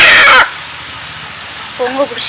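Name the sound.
chicken clucking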